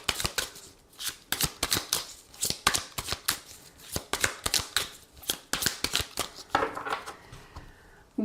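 Tarot cards being shuffled by hand, close and crisp, a rapid run of riffling flutters and slaps repeating steadily for several seconds with a faint voice underneath.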